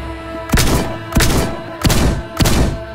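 Four loud, evenly spaced shotgun blasts in the Rec Room video game, each a sharp boom followed by a short decaying tail, with no talk.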